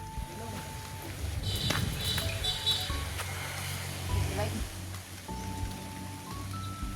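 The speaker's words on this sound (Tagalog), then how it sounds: "Ulan na." Steady rain falls with a soft hiss, while people talk over it and occasional tonal sounds ring out in the background.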